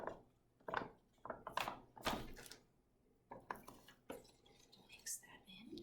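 Pretzel dough being mixed by hand in a bowl at a library, with soft wet squishes and scraping knocks coming in irregular bursts, quiet and close, with no voices.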